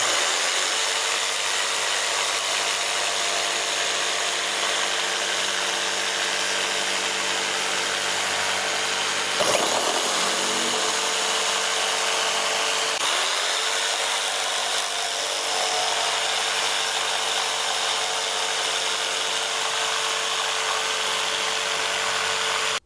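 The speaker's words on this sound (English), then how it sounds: "Finally, you have the in-between choice, I guess, which is an electric jigsaw," An electric jigsaw cuts steadily through a delaminated wooden drum shell, a loud continuous buzzing whine held close up for over twenty seconds, with brief dips in pitch where the blade binds, no speech.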